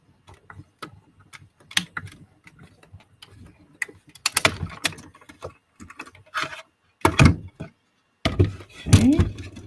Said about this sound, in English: I'm just going to roll my sandwich right through my cut and emboss machine.